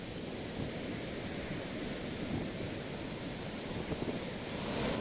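The remains of sea waves wash over a Portuguese shore as a steady broadband rush of surf and spray, close and continuous, with wind buffeting the microphone and a slight swell in loudness at the end.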